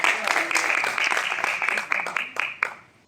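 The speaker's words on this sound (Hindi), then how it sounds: "तालियां होनी चाहिए प्लीज।" Applause at an award ceremony during a conference, with dense, steady clapping from a crowd that keeps going with scattered sharper claps, mixed with some voices and cheering.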